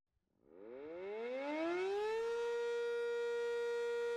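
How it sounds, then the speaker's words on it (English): An Oklahoma storm warning siren winds up from a low growl to a loud, steady wail, holding one sustained tone with no voices. "Storm sirens in Grandfield give off an all too familiar sound when severe weather hits Oklahoma"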